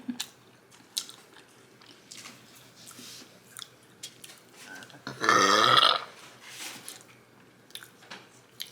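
A loud, drawn-out burp sounds close up during a meal of a Five Guys burger and fries, set among quiet chewing, biting and wet squishing sounds, with no talking.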